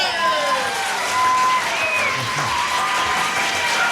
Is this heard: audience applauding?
yes